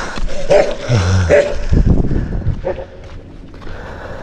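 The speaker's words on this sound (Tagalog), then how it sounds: "Yung aso nakabidyo." A dog barks and whimpers nearby during a GoPro-recorded bike ride in Batangas, with short yips and whining cries in quick succession, fairly loud and close.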